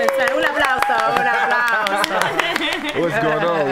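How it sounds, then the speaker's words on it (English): Studio audience at a Black Hollywood Live interview show claps in a quick burst of sharp, close applause, with voices chattering and talking over it throughout. "A round of applause."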